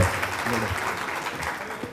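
Continuous crowd applause at a JITO gathering in Kenya, even and sustained, with people's voices mixed in beneath the clapping.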